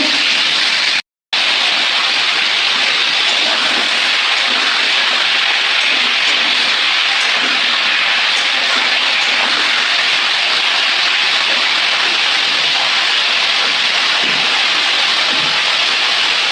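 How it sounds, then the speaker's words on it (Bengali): Potato and papaya frying in a pan with salt, a steady loud hiss and sizzle that runs unbroken and close, cut by one brief dropout near the start. "আলু পেঁপেটা ভাজা ভাজা হোক"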